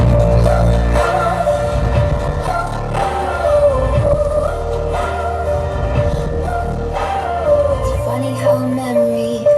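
Music plays through the sound system of a 2020 MG Hector Plus, a full mix with strong bass beats and melody, steady and fairly loud, filling the cabin.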